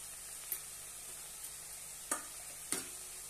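Spiced masala of turmeric, garam masala, red chilli and coriander powder sautéing for a pea and potato curry, a faint steady sizzle broken by a few sharp spoon scrapes against the pan.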